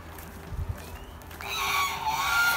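Farm geese honk in a few short, low calls, followed by a steady background hum.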